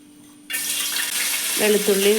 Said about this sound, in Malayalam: നമുക്ക് കടുകിട്ട് കൊടുക്കാം